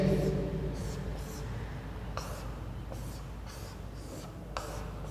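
Chalk or marker strokes on a board during a chemistry lesson: a handful of short scratchy strokes spaced a second or so apart over a quiet room hum, close and faint.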